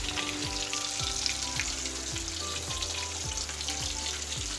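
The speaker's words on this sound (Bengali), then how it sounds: "ইলিশ মাছ ভাজা হচ্ছে" Medium-sized hilsa fish pieces frying in oil in a wok in a Bengali home kitchen make a steady, soft sizzle, while a repeating tonal sweep, likely background music, runs throughout.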